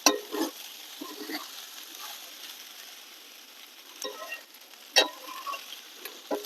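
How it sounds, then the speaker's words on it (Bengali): Rice being fried together with chicken pieces for chicken pulao, a soft sizzle with intermittent stirring scrapes and clinks, fairly quiet and close, no talking. "মাংস দিয়ে ভাতটা ভালো করে ভেজে নিতে হবে।"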